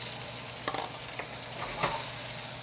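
Chopped green onions hit hot oil in a wok for a beef stir fry, giving a steady close-up sizzle with a few sharp crackles and pops scattered through.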